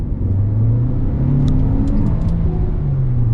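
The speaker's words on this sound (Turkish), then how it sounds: "Değişik bir ses çıkıyor şanzımandan" A Chery Omoda 5 accelerates with a steady engine hum and a rising whine from the transmission, recorded from inside the cabin.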